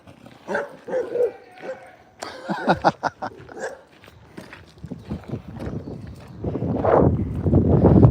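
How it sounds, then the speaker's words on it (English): A dog barks several times during a walk out to a cornfield in southern Minnesota, the sounds mixed with hoof-like clops and rustling, and the noise grows louder and busier toward the end. "The dog is walking."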